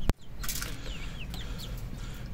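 Backyard chickens cluck softly on a rooftop, a few short scattered calls heard near but faint after a sharp knock at the start, with no talking.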